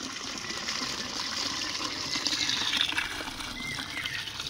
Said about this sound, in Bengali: এই খোলা মাঠের এইখানে পাইপ আছে, বোল বসানো আছে, এই জল যাচ্ছে